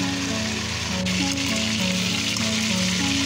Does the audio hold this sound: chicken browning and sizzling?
yes